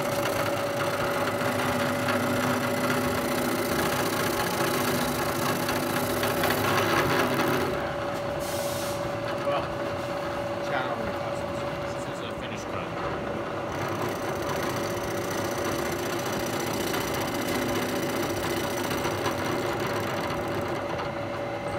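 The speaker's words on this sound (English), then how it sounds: "So I'll take this, go down 10 more thousandths, and then take another cut." A milling machine takes a finish cut on a vise, giving a steady loud machine whir and hum with a faint cutting rasp, unbroken for about twenty seconds.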